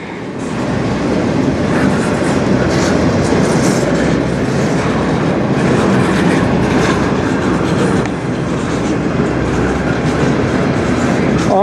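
Freight train with locomotive passing on the Strathroy Subdivision, a loud, close, continuous rumble with rhythmic clickety-clack of wheels over rail joints and faint squeals, no talk.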